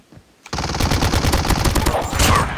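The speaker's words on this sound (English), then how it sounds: "Let me shoot you." Rapid automatic gunfire from Call of Duty, starting abruptly after a brief quiet moment and continuing loud and dense as a fast rattling burst, with a heavier flurry of shots near the end.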